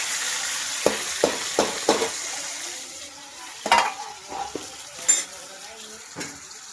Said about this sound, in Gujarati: તેલ ગરમ થઈ ગયું છે. હવે આપણે શાક નાખીએ.